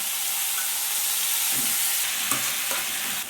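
Brinjal pieces dropped into oil with curry leaves, salt and turmeric in a village kitchen, giving a loud continuous close sizzle and hiss with a few stirring scrapes near the end.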